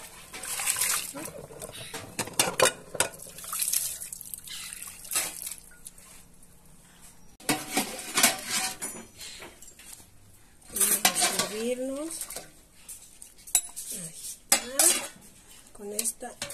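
Plates and dishes clatter as they come out of a kitchen cupboard while goat broth is being served. The clinks and knocks come in bursts, with liquid splashes and some voices between them.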